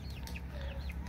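A pair of small-breed chicken chicks on a cattle farm give soft, high chirping peeps and faint clucks, a few short calls close together over a steady low background noise.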